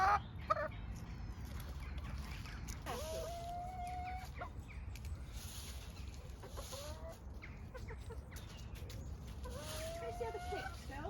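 Backyard chickens on an allotment plot clucking and calling now and then, several short rising calls spread across a steady outdoor hiss, fairly faint and close, with no clear talk.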